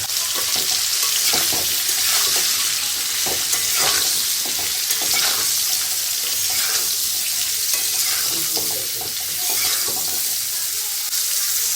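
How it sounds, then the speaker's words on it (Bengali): Cauliflower fries in oil with salt and turmeric, a loud continuous sizzle broken up by frequent scraping and stirring strokes across the pan. "ফুলকপিটা ভেজে নিচ্ছি।"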